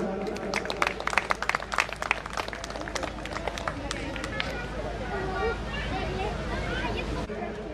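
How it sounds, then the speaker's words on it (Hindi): An audience at a Holi Milan celebration applauds, with dense clapping in the first few seconds that then thins into crowd murmur and chatter, heard from within the gathering. "जोरदार तालियां।"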